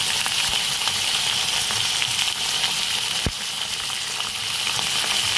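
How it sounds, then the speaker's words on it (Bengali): Potatoes frying with ivy gourd in a pan give a loud, continuous, close sizzle and crackle, with one brief knock partway through. "এবার এর মধ্যে আলুগুলো দিয়ে দিল, পরিমাণ মতো নুন দিচ্ছি।"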